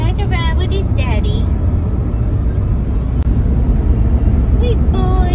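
Steady low rumble of a car interior on the move with a French Bulldog puppy riding along, engine and road noise constant while people talk over it in higher voices.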